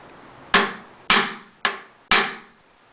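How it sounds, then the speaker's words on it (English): Four sharp, evenly spaced hammer taps strike a 9/16 socket set over a loose flange nut on a Trio-Trainer wheel axle, each a crisp metallic knock that quickly decays, close and alone. "use a hammer and carefully tap"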